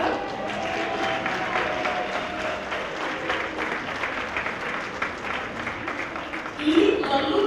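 Audience applause at a tribute to women textile workers in Taradell, steady dense clapping from a crowd throughout, swelling slightly louder near the end.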